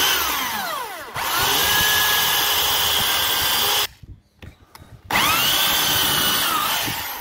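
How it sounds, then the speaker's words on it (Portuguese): Power drill boring 7 mm holes, a loud whining motor that winds up, runs steadily, drops out for about a second with faint clatter, then spins up again. "Aqui eu já vou dar 2 furos aqui de 7 milímetros,"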